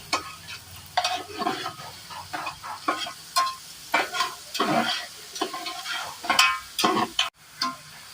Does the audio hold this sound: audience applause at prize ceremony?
no